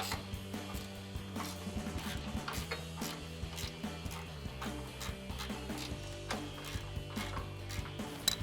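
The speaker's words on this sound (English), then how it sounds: "we're going to use our 14mm ratcheting wrench or 14mm socket" A 14mm ratcheting wrench tightening bolts on a RedRock TCX HD front bumper for a 2014-2021 Toyota Tundra: rapid, uneven ratchet clicks and small metallic knocks, close and fairly quiet, with no talk.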